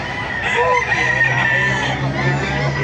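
Golden hens on a vacant lot in Baliuag, Bulacan cluck while a rooster crows nearby, a busy continuous barnyard chorus with a low steady hum underneath.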